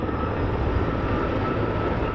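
Firefighting planes and helicopters working hot spots over a wildfire, heard as a continuous, loud aircraft engine roar overhead, broad and steady with no talk.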